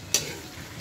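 A single quick scrape of a utensil stirring food in a cooking pan, with a faint sizzle beneath, brief and close.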